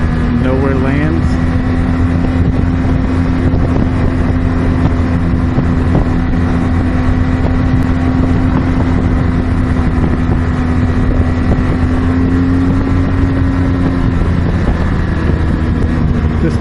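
A 2016 BMW R 1200 GS Adventure motorcycle ridden at Laguna Seca in Monterey gives a loud, steady engine drone at near-constant pitch, with heavy wind rush over the microphone throughout.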